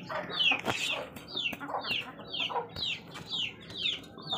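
Several Aseel chickens cluck and squawk repeatedly at close range, a busy overlapping chorus of short descending calls.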